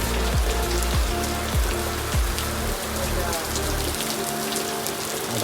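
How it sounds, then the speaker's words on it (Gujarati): Heavy rain pours steadily in a dense, unbroken hiss, with a few low thumps early on. "વરસાદ એકદમ ફૂલ ચાલુ થઈ ગઈ છે"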